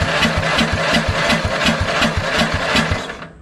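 An Agway lawn tractor engine cranks over with a rapid, even chugging rhythm, close and steady for a few seconds before cutting off.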